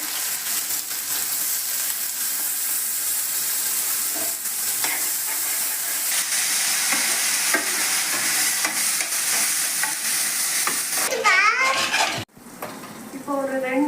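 Chopped onions sizzle in hot oil in a pan for egg rice, a continuous close frying hiss with occasional utensil scrapes and stirring, and a brief voice near the end.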